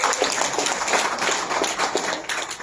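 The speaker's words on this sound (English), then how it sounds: "Can we give them a big round of applause?" An audience at a company product presentation breaks into dense, continuous applause with many hands clapping at once, loud and sustained throughout.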